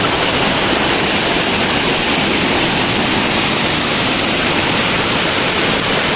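Loud, steady roar of heavy rain and rushing mountain stream water, a dense unbroken wash of noise throughout.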